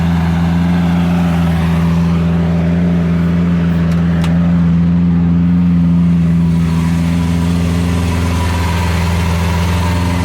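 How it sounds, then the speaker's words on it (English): A car idling with a loud aftermarket exhaust, a deep steady rumble held close and constant with slight fluctuations, no voices over it. "at idle, it's crazy loud"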